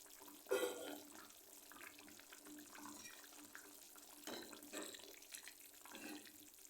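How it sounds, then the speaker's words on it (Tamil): Dried fish is rinsed clean under a running tap in a kitchen sink, with a splash at the start and then soft, intermittent water sounds in quiet, fairly faint bursts. "நம்ம கருவாடு நம்ம சுத்தம் பண்ணி அலசி வச்சுக்கணும்."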